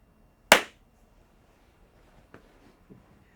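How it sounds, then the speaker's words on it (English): A single loud, sharp hand clap close by, made for syncing audio, then near silence with a couple of faint knocks. "I'm gonna clap loud right in front of you so we can sync our audio later"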